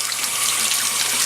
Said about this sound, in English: So I'm going to rinse this Nitrosorb.